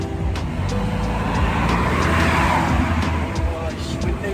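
A car pulls out on a street in Cyprus, engine and tyre noise rising steadily, heard from close by with people talking and laughing over it.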